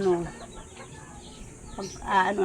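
Chickens cluck and squawk near their coop, a few short calls close by with a louder burst at the end, while a person talks over them.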